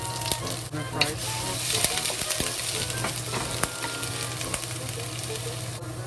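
Ginger sizzles and crackles in a hot pot, a continuous frying hiss with sharp pops and spatters and occasional stirring scrapes, close and fairly loud.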